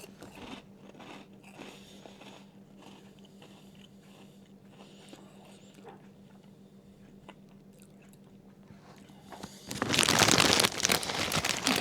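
Crunching on ASDA limited-edition vindaloo maize snacks, at first a quiet, low chewing under soft background hum, then a sudden loud, close crisp crunch near the end.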